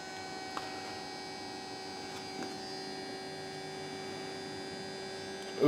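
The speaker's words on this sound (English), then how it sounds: "That motor sounds terrible." Faulty color wheel motor in an InFocus IN119HDx projector, running with a steady electrical whine and hum, a few faint clicks, and a short rise in level at the very end.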